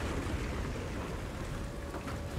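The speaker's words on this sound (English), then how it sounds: "I'll fall ill standing in this downpour." Heavy rain pours down in the video game Trek To Yomi, a steady, dense hiss of falling water that stays even and close throughout, with no voices.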